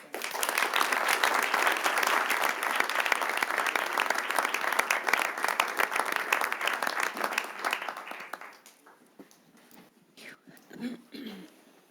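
Loud applause at a city council meeting honoring award recipients, a dense, sustained clatter of many hands that fades out near the end, leaving brief faint room sounds and a murmur of voices.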